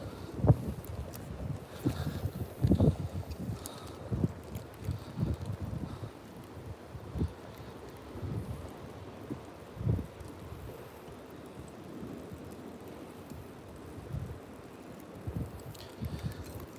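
Strong gusty wind buffets the microphone beside an upriver stretch of a river in Ohio during a fishing outing, with low rumbling bursts and rustling rising and falling continuously, no speech.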